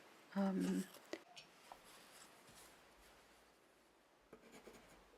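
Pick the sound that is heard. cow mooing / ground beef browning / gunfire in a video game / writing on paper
writing on paper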